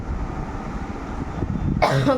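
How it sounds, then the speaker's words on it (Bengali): A single cough from a sore throat bursts out near the end after a stretch of quiet room noise. "গলাটা খুব ব্যথা হয়েছে, মাঝে মাঝে কাশিও হচ্ছে।"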